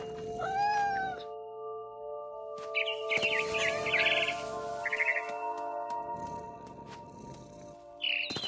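A cat meows in the video game What Remains of Edith Finch, with three or four close, clear meows early on and again at the end, over a steady tonal music bed and soft bird chirps in between.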